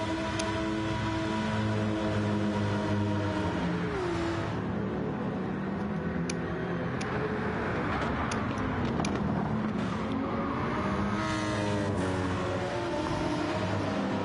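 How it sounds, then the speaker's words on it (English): Racing video game cars, including a Lamborghini, lap the Barcelona circuit with a loud, continuous engine whine whose pitch rises and falls through gear changes, several cars blending into one steady roar. "Now Clemson, all the way under the rear wing of that Lamborghini now."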